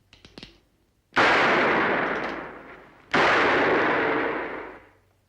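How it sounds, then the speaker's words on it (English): Two loud .45 pistol shots fired one after another into a bale of hay, each a sharp close crack followed by a long rolling echo that slowly fades, with a brief tapping just before the first. "I'm going to fire a couple of bullets into that bale of hay"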